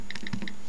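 A few quick, soft taps on a touchscreen keyboard, light clicks spaced close together in a short burst.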